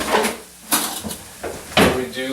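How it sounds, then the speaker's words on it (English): A spoon is picked up from among kitchen utensils during a raw chickpea cooking class, giving a few sharp metallic clinks and knocks amid brief talk nearby. "Let me get another spoon here"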